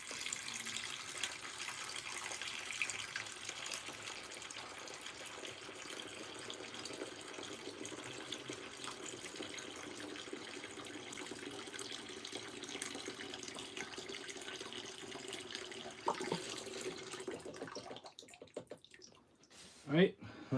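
Water runs steadily from a tap during a water change on an aquarium fish tank, a continuous rushing flow that stops near the end, followed by a few brief handling noises.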